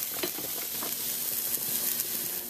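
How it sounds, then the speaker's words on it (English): Vegetables including onions boil over in a pot of cheesy chili con queso on the stove, a close, continuous crackling sizzle and bubbling hiss with no talk. "you got your veggies there boiling over"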